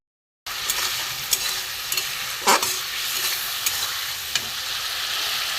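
Spiced water poured into a hot pan for a Bengali hilsa, eggplant and potato mustard fish curry sets off a steady, bright sizzle, with an abrupt start, scattered clinks of stirring and one louder splashing burst midway.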